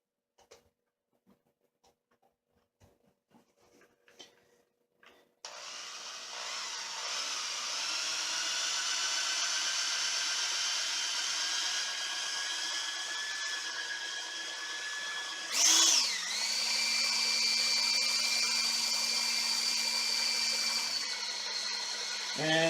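A homemade spinning stirrer churns paint in a container, a loud steady motorized whir with faint clicks before it starts, holding an even drone with one brief surge and pitch dip partway through.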